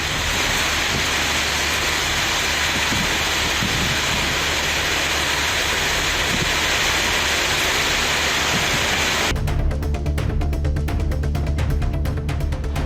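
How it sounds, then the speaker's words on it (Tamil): Heavy rain pours down in a dense, steady roar, with a gusty wind churning through it before the sound shifts abruptly to a harsher, crackling downpour near the end. "பலத்த சூறைக்காற்றுடன் கனமழை பெய்தது"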